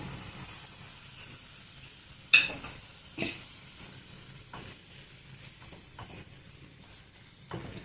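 Paneer stirred into tomato curry in a pan gives a quiet, steady sizzle, with a few sharp scraping clinks of the spoon against the pan scattered through.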